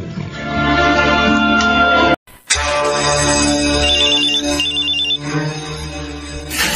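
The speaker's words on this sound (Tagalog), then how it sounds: "Ay, may tumatawag sa cellphone ko." A cellphone ringtone sounds for an incoming call during a Filipino radio drama broadcast, a loud repeating electronic melody that plays steadily, briefly cuts out, then resumes over a music bed.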